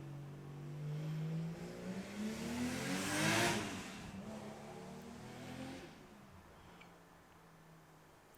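A freshly tuned car drives past, its engine revving and rising to a loud peak near the middle before fading away into the distance, with no talk over it.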